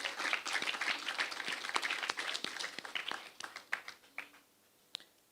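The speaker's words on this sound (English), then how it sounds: "Please give her a round of applause." Audience applause at an official digital device hand-over ceremony: a burst of many hands clapping that stays dense for several seconds, then thins to scattered, isolated claps and fades out.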